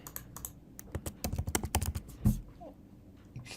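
Rapid clatter of keystrokes on a computer keyboard while code is typed for a React and Laravel app, a dense burst of clicks that thins out into a few scattered taps near the end.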